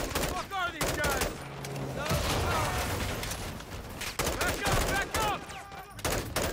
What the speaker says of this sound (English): All stations, troops in contact! Taking effective fire!